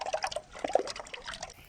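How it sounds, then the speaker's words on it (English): Water from a park drinking fountain splashes and trickles in an irregular patter of small drips and spatters, fairly faint and close, with no voices. "This water fountain sucked for the longest time, but it's a little better now"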